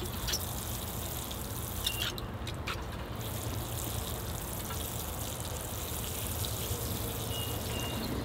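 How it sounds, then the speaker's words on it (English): Water poured over bonsai seedlings in pots gives a steady, close, fizzing patter and trickle that lasts the whole stretch, with a few brief clicks, and no one talks. "All right, I'll give these a water."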